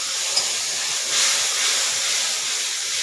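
Mustard and poppy seed paste thinned with water sautéing in a pan for a drumstick flower dish, giving a continuous, fairly loud steamy hiss and sizzle throughout with no voices.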